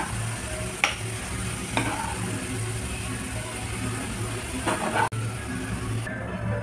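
Potato pieces fry until crisp in hot oil in a kadhai, giving a steady close sizzle with a few sharp clicks of a spatula against the pan.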